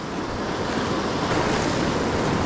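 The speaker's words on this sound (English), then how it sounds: "See where that wave is breaking?" Surf breaking along the shelf at Oceano beach where striped bass are fished, a loud, continuous wash of waves with steady wind noise, no voices.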